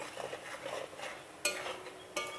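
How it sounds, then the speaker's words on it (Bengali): A spice paste for soya bean curry fries in a pan, a quiet low sizzle with a couple of sharp spoon scrapes and clinks against the metal. "দিয়ে মশলাটাকে ভালো করে ফ্রাই করতে হবে"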